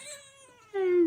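A sleepy pet cat lets out a drawn-out meow with a rising, strained tone, close and fairly loud. It swells sharply in the second half after a softer opening.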